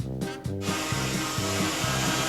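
A chainsaw grinds through a wooden floor, its engine holding a loud, steady snarl with a rhythmic pulsing as the chain bites, close and dominant with no voices.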